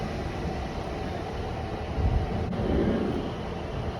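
Class 197 unit 197 001 pulling away from Chester station toward Crewe, a distant, steady low rumble that swells slightly midway through.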